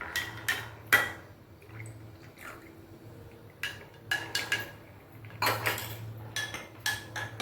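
A spoon clinks and scrapes against a cup while stirring a protein powder drink, in short irregular bursts of metallic taps with brief pauses, close and fairly clear.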